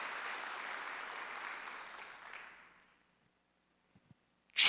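Congregation applause in a church during a Sunday worship service, a broad wash of clapping that fades out over about three seconds, followed by silence, a couple of faint knocks and a loud burst at the very end.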